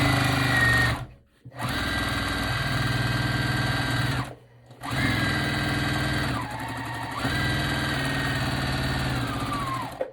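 A sewing machine runs in long steady bursts while stitching a tote bag made from a T-shirt, its motor hum broken by two brief pauses and a slowdown near the end.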